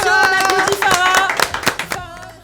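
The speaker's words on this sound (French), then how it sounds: "on applaudit Farah!" A crowd claps for a contest winner named Farah, a dense run of applause under a bright musical backing that thins out toward the end.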